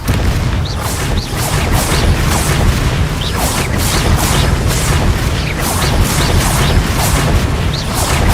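Repeated spell blasts and booming bursts from combat in the Hogwarts Legacy video game, a steady barrage of loud impacts with shrill magical whooshes layered over a constant low rumble, no pauses throughout.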